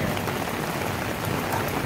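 Rain falling steadily outside an RV while boondocking, a dense continuous hiss of drops on surfaces, close and even, with no voices.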